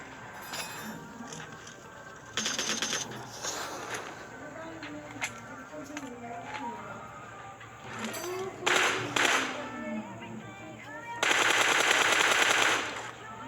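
Several bursts of automatic AK rifle fire in a shooter video game crackle loudly over quieter in-game background sounds.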